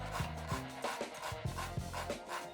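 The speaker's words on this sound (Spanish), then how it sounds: "le damos una mano de lija a toda la cubierta" Repeated rasping strokes of sandpaper on the wooden deck of a ship model, a steady back-and-forth rhythm of about six passes, close and moderately loud.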